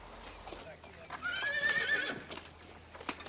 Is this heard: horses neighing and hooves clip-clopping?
yes